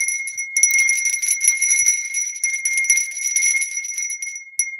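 A bell rung on a live morning show gives bright, clear ringing tones that keep sounding, with a short pause near the start and a fading ring at the end. No talk is heard over it.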